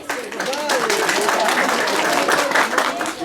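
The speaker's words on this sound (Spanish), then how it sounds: "Aplauso para la pareja número 1." Applause and cheering from a wedding crowd for a couple, a loud, steady wash of clapping throughout with voices mixed in.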